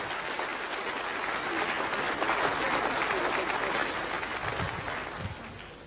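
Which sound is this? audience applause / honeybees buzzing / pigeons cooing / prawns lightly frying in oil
audience applause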